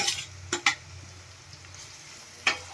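A spoon stirs chopped capsicum in a pan with ginger-chilli paste for paneer bhurji, making a few sharp metallic scrapes and clinks over a low, steady sizzle.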